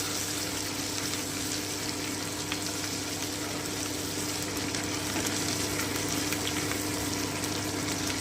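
Ginger and garlic paste sizzling softly in a pan over very low heat as it is stirred, a faint steady crackle with a low hum beneath.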